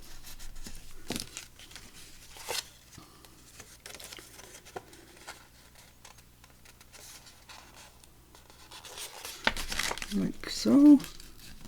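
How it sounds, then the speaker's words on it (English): Paper is crimped at each end and folded, giving close, soft crinkling and rustling that grows louder near the end, with someone speaking briefly over it. "I'm just crimping each end and then you can fold the middle"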